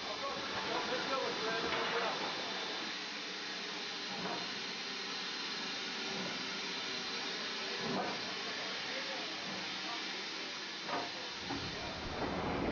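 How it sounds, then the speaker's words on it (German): A historic steam locomotive on the North Yorkshire Moors Railway out of Pickering gives off a steady, loud hiss of steam with a low rumble running under it throughout. "Die Fahrt mit der historischen Dampflok der North York North Railway geht von Pickering nach Norden."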